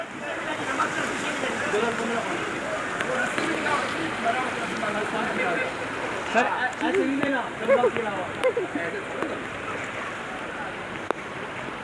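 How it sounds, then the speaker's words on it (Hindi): Floodwater rushes loudly through a Karachi street after heavy rain. It is a constant roaring wash with people talking over it close by. "पानी खड़ा ही नहीं हुआ जा रहा, इतना तेज़ पानी आ रहा है"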